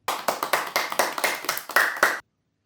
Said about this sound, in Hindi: जिस चीज़ का नाम साद से शुरू हो, उसका नाम सुनकर आपने ताली बजानी है